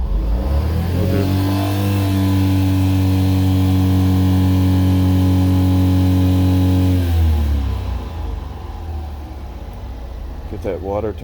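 A Honda Acty HA4 Japanese mini truck engine revs strongly and steadily for about seven seconds, then drops back to a rough idle, with construction noise and a voice briefly audible afterward.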